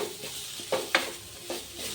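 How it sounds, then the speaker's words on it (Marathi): Grated coconut is stirred in a kadhai over a low gas flame. Soft scraping strokes come in an uneven rhythm, each making a brief swish over a faint sizzle, close and alone. "गॅसच्या बारी मंद फ्लेमवर मी हे फिरून घेणार आहे"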